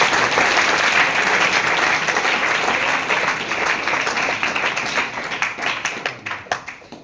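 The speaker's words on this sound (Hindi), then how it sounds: "इनके लिए भी ताली बजाइए" Classroom audience applauds with sustained, dense clapping at fairly close range, thinning toward the end into a few separate, distinct claps.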